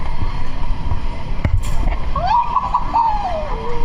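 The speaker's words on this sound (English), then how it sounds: "people just throwing water on you and stuff" Water thrown and splashing onto people at a street water fight in Thailand, with bursts of splashing over a busy outdoor crowd and lively voices and shouts around.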